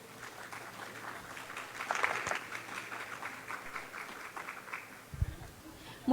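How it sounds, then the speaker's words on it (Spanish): A book fair audience at a panel talk on children's reading gives moderate, fairly quiet applause that swells briefly and then thins out, with a voice starting up at the end. "La recibimos con un fuerte aplauso."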